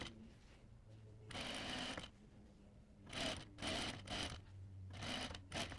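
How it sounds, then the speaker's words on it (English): Sewing machine stitching a quarter-inch (6 mm) seam on a dress fabric, in several short bursts of running motor with brief pauses between, fairly close and steady. "we'll sew using a 1/4 inch seam or 6 millimeters."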